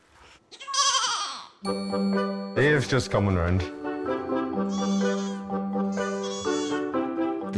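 Goats bleating on a farm after veterinary treatment, several harmonic bleats close by, mixed with people talking in between calls.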